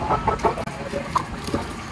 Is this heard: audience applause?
no